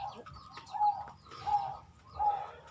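A zebra dove (perkutut) coos on a bird farm in the late afternoon, three evenly spaced soft rolling calls, moderately close, with faint background noise between them.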